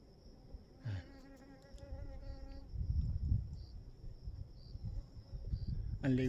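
Large flies buzz around flowers on a mountain in Taiwan. Thin buzzing passes come and go outdoors over gusty, rumbling wind noise.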